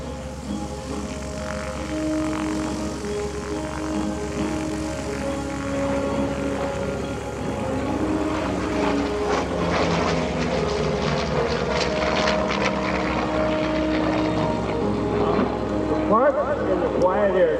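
A single-engine F4U Corsair propeller fighter-bomber with a 2,800 cubic inch radial engine passing in flight at an air show, a steady droning engine tone that slowly builds and shifts pitch as it nears, with an announcer talking over it.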